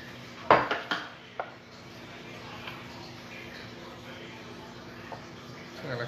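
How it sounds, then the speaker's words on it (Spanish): A utensil stirs water and sugar together in a dish for caramel, giving a few sharp clinks at first, then quieter scraping and tapping. A voice speaks faintly. "Mezclo bien mi agua con el azúcar."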